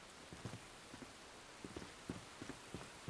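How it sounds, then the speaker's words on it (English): Rain falls in the mountains of the video game Enshrouded, a faint steady patter with scattered soft drops tapping irregularly, alone without talk. "It rains constantly here, absolutely constantly"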